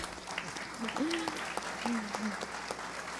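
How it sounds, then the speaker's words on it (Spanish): Scattered audience applause at a panel discussion, faint and distant clapping with voices talking over it. "Sí, merece aplauso."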